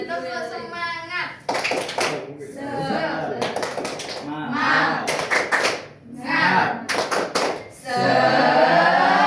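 A classroom of children performs the tepuk semangat clapping chant during a lesson, with bursts of rhythmic clapping and chanted voices alternating with a teacher's speech.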